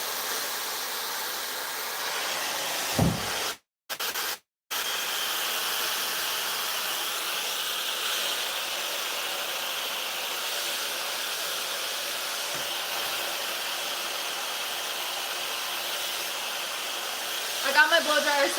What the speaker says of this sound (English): I got my blow dryer second hand.